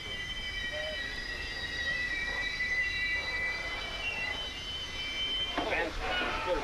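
A Canadian passenger train rolls along its tracks near the Maine border, a steady low rumble topped by sustained high wheel squeal, with a nearby voice talking over it.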